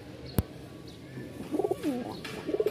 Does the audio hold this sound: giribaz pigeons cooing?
yes